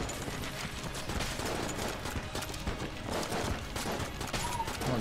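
Rapid, dense gunfire and bullet impacts from Enter the Gungeon co-op play crackle continuously at moderate loudness, without a pause.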